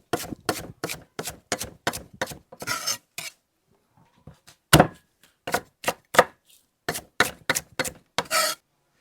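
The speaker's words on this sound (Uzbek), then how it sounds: "Tak, sabzavotni to'g'rab tayyorlab olamiz-chi." Vegetables are chopped with a knife on a board, a burst of quick, sharp, rhythmic strikes, a pause, then more series of chops, close and crisp.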